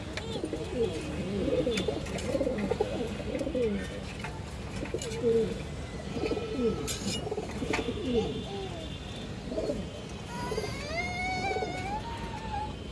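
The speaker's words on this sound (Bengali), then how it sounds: "সিলভার কালার কবুতর" Silver Bagha pigeons at a market coo in repeated low, throaty rolling calls that carry on throughout, with faint higher chirps of other birds joining near the end.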